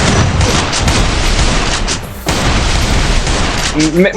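Gunfire in the mobile battle game Free Fire: dense, booming shots and bursts crowd together over a few seconds, loud and close, while players talk excitedly over the shooting.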